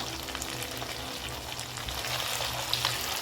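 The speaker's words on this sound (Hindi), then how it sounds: "इसको मज़ीद तकरीबन 1 मिनट हम इसको और फ्राई करेंगे" Meat for a Bakra Eid dish fries in a pan with a steady, moderately loud sizzle and crackle that stays constant throughout, with no one talking.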